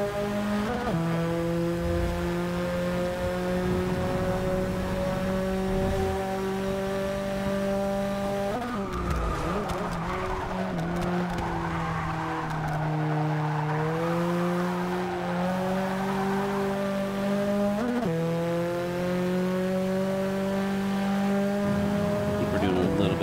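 A 2005 Subaru WRX STI racing laps in Forza 6, its engine droning loud and steady, climbing in pitch through each gear and dropping abruptly at shifts, with a rougher braking stretch midway.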